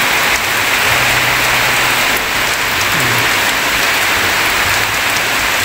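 Steady rain pours down in a rural Philippine setting where villagers gather by an outdoor cooking area, a dense, even hiss filling the whole scene from start to finish with a faint low hum underneath.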